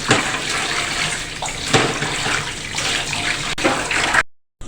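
Steady rush of running water over fish being washed, close and loud with splashing surges, cutting off abruptly near the end.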